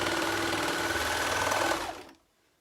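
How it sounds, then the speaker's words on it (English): An overlocker serging a seam on a pair of men's boxers runs in a steady, loud whir for about two seconds, then stops abruptly and leaves near silence. "So there I've got my seam sewn now on the overlocker"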